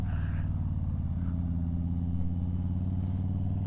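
A Harley-Davidson Low Rider S cruises along the road with a steady, deep engine rumble close to the rider, plus wind noise. The engine note shifts slightly partway through.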